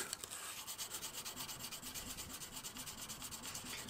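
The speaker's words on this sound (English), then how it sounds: "And it doesn't take long before you start to polish the steel." Steel being polished with fine-grit sandpaper wrapped around a mandrel, a steady rhythmic rasping rub with quick regular back-and-forth strokes, close and fairly quiet, with no voices.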